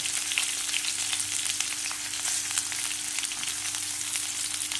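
Cumin, onion and curry leaves frying in hot oil, a steady dense sizzle with crackling pops running evenly throughout, close and fairly loud, with no talking.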